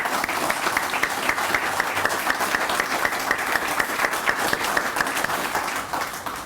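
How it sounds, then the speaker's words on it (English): Sustained, dense applause from a crowd at an elementary school dedication ceremony, steady and loud throughout before easing slightly at the end. "So I think you deserve a huge round of applause."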